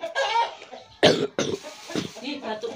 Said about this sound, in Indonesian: Batukmu serem banget.